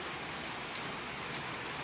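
Rain falls as a steady, uniform wash of hiss that stays soft and constant throughout, with no voices.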